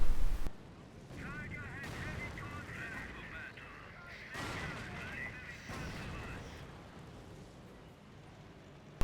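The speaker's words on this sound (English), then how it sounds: "Allied Nebelwerfer are firing." Allied Nebelwerfer rocket artillery firing in a war strategy video game: a loud opening blast, then heavy booming bursts and whooshing rocket rushes layered with game noise across the stretch.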